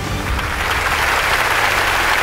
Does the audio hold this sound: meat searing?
no